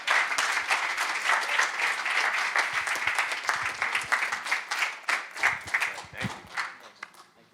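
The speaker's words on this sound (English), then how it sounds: "Give another round of applause for Dr. Bret Hofer" An audience at a health and wellness session breaks into dense, sustained applause that stays full for several seconds before thinning into scattered claps at the end.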